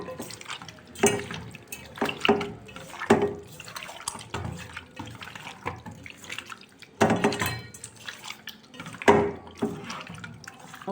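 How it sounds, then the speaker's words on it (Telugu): Prawns are washed by hand in water mixed with turmeric and curd, producing bursts of splashing and sloshing close by in an uneven rhythm, with pauses and light dripping between them. "తర్వాత ఒక స్పూన్ పసుపు అలాగే కొంచెం పెరుగు బాగా కలుపుకొని కడుక్కోవాలి"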